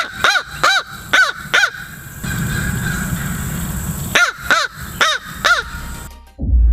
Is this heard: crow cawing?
yes